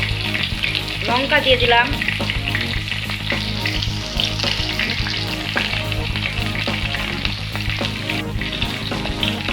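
Sliced ridge gourd sizzles steadily in hot oil in a pan, a loud, continuous crackling fry with occasional stirring clatter, while someone briefly speaks over it.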